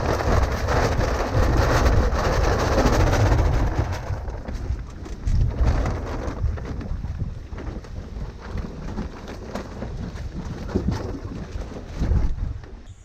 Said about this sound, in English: Absolutely blowing a gale.